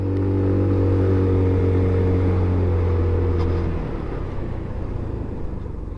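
An MGB R8 125cc scooter on a test ride accelerates steadily, its engine drone loud and close, with a low hum that fades into broadband road and wind rumble as speed builds.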